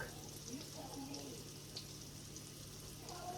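Croquettes frying in an uncrowded pan give a steady, soft sizzle and hiss that runs continuously, with faint speech-like murmurs and background tones over it.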